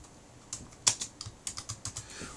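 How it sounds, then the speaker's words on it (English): Typing on a computer keyboard: a quick run of about a dozen light, crisp key clicks in an irregular rhythm, close up over a quiet background. "We can just simply start typing the words."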